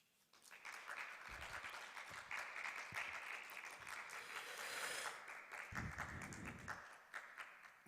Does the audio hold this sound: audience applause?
yes